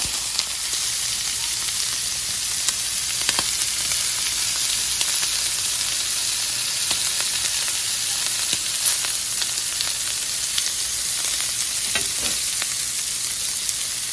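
Marinated shrimp skewers sizzle steadily on a grill, a continuous bright frying hiss with small crackles and pops, close and fairly loud, no voices.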